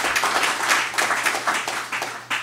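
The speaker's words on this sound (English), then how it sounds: "I just want to round applause for Jamie" An audience at a book talk and panel discussion breaks into steady, close, dense clapping that continues throughout.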